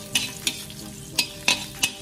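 Garlic and onion stirred in hot oil in a pan for chicken adobo, with a soft background sizzle and five sharp utensil scrapes spaced unevenly across a couple of seconds.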